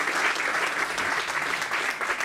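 Dense, even applause from a concert audience at an in-store performance, many hands clapping at once in a continuous wash without a break, with no voices over it.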